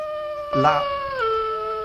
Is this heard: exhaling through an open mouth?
no